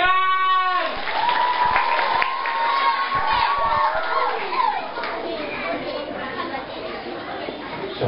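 A group of schoolchildren claps and cheers loudly together at a Maulid religious talk question session, a burst of applause following a short spoken cue.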